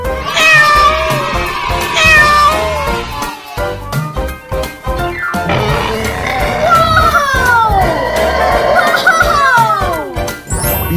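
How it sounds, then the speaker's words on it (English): A cartoon cat meows repeatedly in bright, gliding calls over a busy children's cartoon music track, with several cries rising and falling across the stretch. "Yellow cat."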